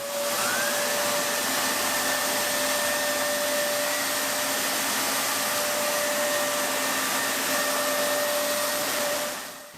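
A Shark CarpetXpert carpet cleaner shampooing carpet runs as a loud, continuous motor whine and suction hiss with steady tonal hum, holding evenly for nearly ten seconds before cutting off at the end.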